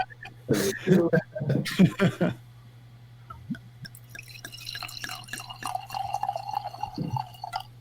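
After a few spoken words, sake trickles and drips into a glass at the Brooklyn Kura sake brewery in New York, a soft continuous pour with light splashing and a faint clink near the end.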